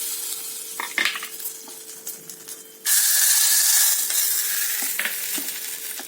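A tempering of spices frying in hot oil for restaurant-style coconut chutney, a soft crackle that swells into a loud, close, continuous sizzle and hiss, then settles a little but keeps going.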